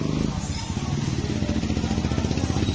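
Motorcycles and other traffic crowd a street on market day. Engines putter and rumble steadily up close under talking voices.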